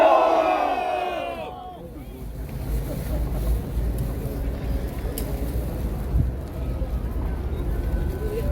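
At an outdoor political rally at Seoul Station, a large crowd roars the chant 'Myeolgong' in one loud burst at the start, then falls back to a broad open-air murmur and background rumble.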